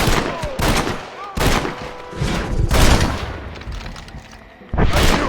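Repeated gunfire in the Red Dead Redemption video game on Xbox Series S, loud bursts of shots and booms in quick succession with brief gaps, mixed with some game voices.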